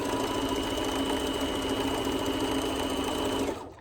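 A sewing machine running continuously and stitching a fabric face covering, a fast even whirring rattle held steady at close range before stopping abruptly at the end.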